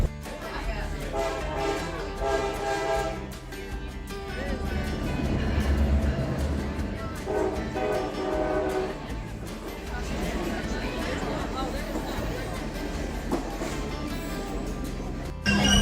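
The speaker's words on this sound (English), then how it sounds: "We pulled over to a siding to let the passenger train pass by" A passenger train rumbles past a siding on the Lehigh Gorge Scenic Railway, a rolling, moderately distant clatter that swells and fades while people chat nearby.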